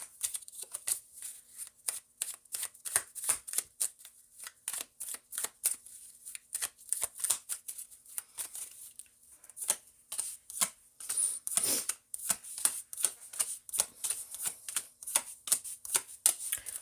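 Tarot cards shuffled and drawn by hand, a long run of quick crisp riffling snaps and flicks, close and fairly quiet, without talk.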